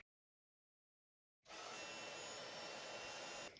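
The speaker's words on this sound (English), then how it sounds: "I'm just going to heat emboss that in white." After a second and a half of silence, a heat gun switches on and blows a steady, loud whooshing hum while heat embossing white powder on a stamped card, cutting off near the end.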